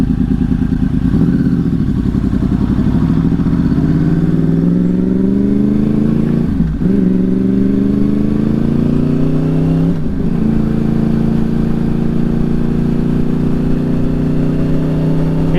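A supermoto motorcycle with an undertail exhaust runs while being ridden, its close, loud engine note climbing through gears with brief dips at shifts before settling into a steady drone.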